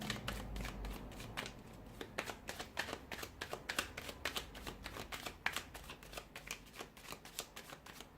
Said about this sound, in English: we'll give the cards a shuffle